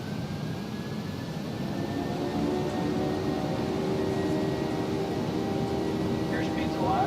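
Jet engines of a PMDG 737 in Microsoft Flight Simulator 2024 spooling up to takeoff thrust, a loud steady roar with a rising whine that builds and holds throughout.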